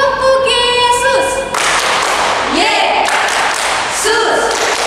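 Children at an online Sunday school church service clap hands together in a rhythmic chant game, several sharp group claps ringing out amid singing voices and an adult leading.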